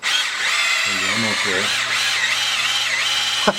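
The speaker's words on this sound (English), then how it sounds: "So we're going to just kind of drill check." A power drill whines steadily and close during a test drilling check while a supercharger is installed on a 2010-2015 SS Camaro, the pitch wavering throughout as someone speaks briefly over it.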